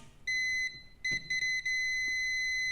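A multimeter in continuity mode beeps while probing a line on an electronic circuit board being checked for a short, giving a loud, steady tone that cuts out briefly a few times and resumes, with no talk.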